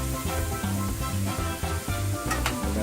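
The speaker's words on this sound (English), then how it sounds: "that butter is melted, we're gonna add flour, a little bit of flour. Mix it all in. We're mixing it." Flour being stirred into melted butter in a pan, soft sizzling under repeated rhythmic scraping and stirring strokes, fairly close, with a couple of sharper clicks near the end and no talking.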